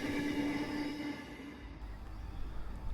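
A freight train rumbles steadily through North Strathfield station in Sydney, a loud continuous roar with a brief wheel squeal early on and deepening low rumble as the wagons roll past close by.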